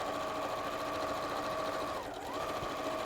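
A sewing machine runs steadily, stitching a quarter-inch seam at normal stitch length, with a continuous motor hum and a brief dip in speed near the end.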